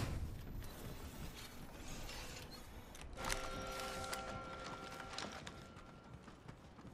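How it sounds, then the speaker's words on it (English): Shields recharging in a squad-based shooter video game: a steady, rising electronic whine with layered tones swells for about two seconds amid busy mechanical clatter and gunplay noise. "Charging shields."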